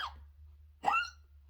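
Two hiccups, one faint at the start and one sharp and louder near the end of the second, both close and alone over a low background hum.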